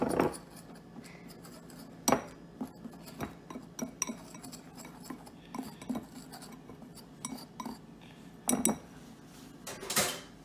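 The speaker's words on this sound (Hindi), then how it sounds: "कोको का पाउडर, बेकिंग पाउडर और नमक मिक्स करूंगी" A spoon or whisk clinks and scrapes against a bowl while flour, cocoa powder, baking powder and salt are mixed for chocolate Swiss rolls, uneven light taps and scrapes close up with short pauses.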